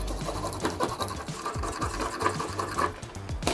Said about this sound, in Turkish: Hemen burada bir adet bu bıçakla şöyle telefona yandan bir geçelim.